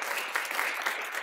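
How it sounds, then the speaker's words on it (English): A church congregation claps for returning visitors at a worship service, a dense, even patter of many hands sustained throughout the short moment. "I just want to give you a chance for people to clap for you."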